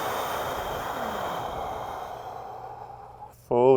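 A slow, deep breath drawn in during a guided thoracic breathing exercise, a long airy hiss that fades gradually before a voice starts speaking at the end.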